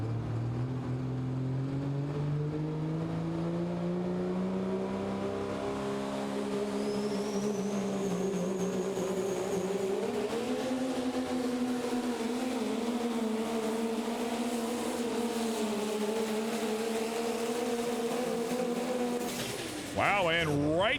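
Pro Stock diesel pulling truck Crazy X roaring through a pull at Terre Haute, a loud sustained engine howl with shifting pitch lasting the whole run, ending with an abrupt change near the end.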